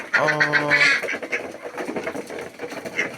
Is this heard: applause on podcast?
no